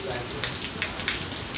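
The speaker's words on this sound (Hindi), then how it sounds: "बाहर बारिश आ रही है।" Steady rain patters on a surface nearby, a dense hiss with occasional louder drops splashing.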